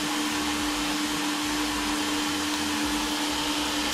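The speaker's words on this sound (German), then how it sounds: "jetzt geht er eben zu diesem Bereich staubsaugen, wo ich gesagt habe" A 360 S6 robot vacuum cleaner runs close by with a loud, steady motor whine and airy suction roar that stays constant without a break.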